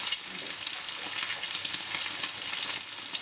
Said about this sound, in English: As soon as the egg hits the hot oil, it starts to fluff up and starts to cook